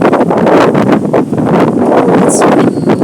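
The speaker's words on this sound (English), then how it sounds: "Oh, it's windy in Glenview." Strong wind on a rainy day in Glenview buffets the microphone outdoors, a loud, close, continuous rushing roar with gusty surges and no clear talk.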